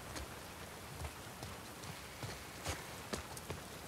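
Steady rain falls in The Last of Us Part II, a soft continuous patter with a few louder drops and taps, fairly quiet and without talk.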